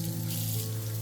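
Tap water running steadily into a sink while pieces of a butchered organic whole chicken are washed, a close, continuous rushing stream with no voices.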